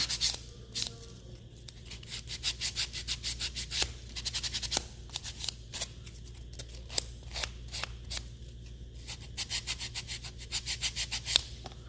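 A chipboard shape is sanded by hand in quick rhythmic rubbing strokes, close and fairly quiet, coming in bursts with short pauses over a low steady hum.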